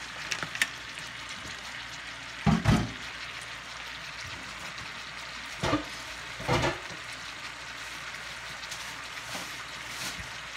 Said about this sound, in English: I'll put the top on those and let those sear